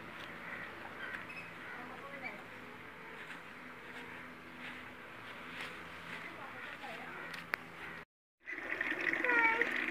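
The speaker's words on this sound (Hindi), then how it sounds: "ये मैं पानी की बाल्टी भर रहा हूँ" Water runs steadily into a bucket with a soft continuous splashing hiss, then briefly cuts out and returns louder; a voice talks over it.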